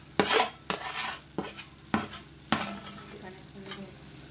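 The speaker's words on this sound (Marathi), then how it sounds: "मॅरिनेट करून ठेवलेली भेंडी तर आपण ॲड करून दिलं आहे. चांगलं व्यवस्थित मिक्स करून घेऊया त्याला." A spoon scrapes and clacks repeatedly around a pan as marinated okra (bhindi) is mixed in masala, about six distinct strokes over a soft sizzle, with no talking.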